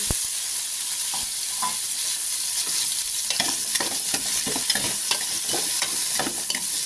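Salmon head sinigang base cooking in a pan: browned onions with tomato just added, giving a steady sizzle and frying hiss with repeated stirring scrapes and clicks, close and fairly loud, no talking.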